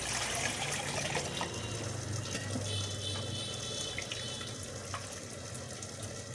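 Water runs in a steady, continuous stream into a vessel, a close and even pouring sound with no voices.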